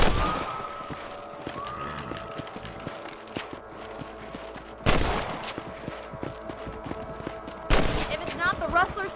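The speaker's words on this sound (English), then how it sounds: "Better at shooting rabbits than outlaws, I see." Rifle shots ring out while hunting rabbits in Red Dead Redemption, with a few sharp, loud cracks spaced seconds apart over clopping horse hooves and faint game ambience.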